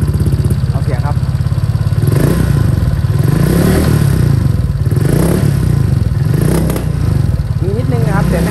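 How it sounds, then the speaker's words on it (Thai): Honda Click 125 scooter with an aftermarket straight-through exhaust idling and being blipped, a loud, close, raspy putter with rising revs and some clatter and scraping, while someone talks over it. "มาลองสตาร์ทดูอันนี้ผมแก้การสะดุดให้เรียบร้อยแล้วนะครับมาฟังเสียงว่ามันหายไหม ท่อเป็นท่อผ่านะ"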